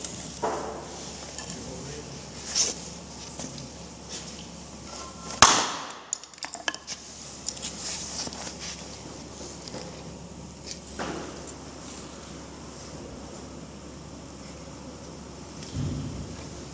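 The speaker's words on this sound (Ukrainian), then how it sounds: "б'ємо саме скло" A hammer strikes the glass lens of ESS Advanced V12 tactical goggles. One sharp, loud crack sounds midway, and fainter knocks come before it. Steady background noise fills the rest.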